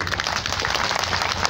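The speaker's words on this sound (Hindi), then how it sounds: "ताली बजा दीजिए" An audience at a political rally applauds in a dense, steady wash of clapping, close and loud for a brief moment without any speech on top.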